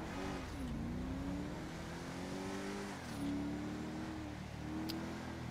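A steady car engine from an Enus Windsor Drop convertible in GTA 5 Online hums and rises in pitch, shifting through gears at moderate volume with no talking.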